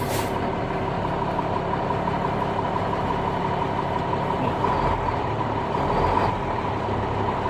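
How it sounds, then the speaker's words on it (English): A Class B truck rolling in drive and brought to a stop with only the parking brake during a pre-trip brake test, heard as a steady, close engine drone with a faint hiss and slight rise toward the end. "we're gonna put it in drive and let it roll. And I'm gonna pull the parking brake, only the parking brake to stop the truck."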